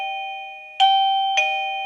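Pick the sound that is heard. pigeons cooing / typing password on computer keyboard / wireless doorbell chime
wireless doorbell chime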